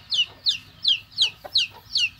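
Rooster at a chicken farm on Phu Quoc island, clucking in six sharp, evenly spaced calls, close and clear above a quiet background.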